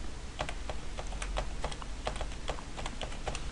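Typing a username and password on a computer keyboard: quick, irregular clicking keystrokes close to the microphone, steady throughout with no talking.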